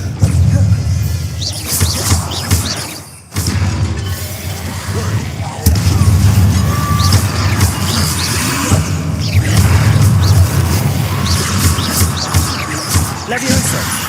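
Spells cast in Hogwarts Legacy during a tomb raid produce loud booming blasts and whooshes, with sharp impacts and crashes over a rumbling game soundscape, including a brief dropout and several bursts.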